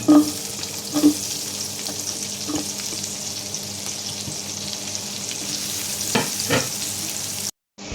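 Onion frying in a pan after garlic, for a chicken-with-mushroom dish: a steady, close sizzle with a few sharp clicks and occasional utensil taps, then an abrupt cut at the end, no voices.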